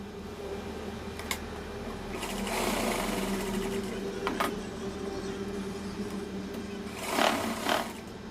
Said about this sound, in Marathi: अगोदर कडेकडनं शिलाई मारून घ्यायचं